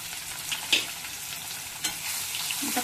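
Onion fries in a pan for phodnichi poli, a steady close hiss of sizzling oil with a couple of brief stirring scrapes and clinks, no one speaking.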